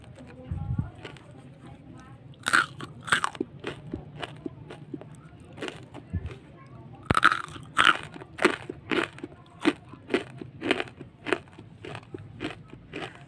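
Crispy fried sausage snack bitten and chewed close to the mouth, a run of sharp crunchy crackles in an irregular rhythm, with quieter soft chewing between bites.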